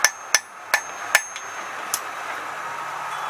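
A forging hammer strikes hot metal while a bottle opener is shaped, with about six sharp ringing blows at an uneven pace, loud at first and lighter later, and no talk.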